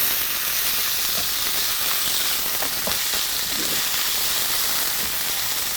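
Minced chicken frying with onions in a pan gives a steady, close sizzle with soft spatula scrapes now and then and no talking.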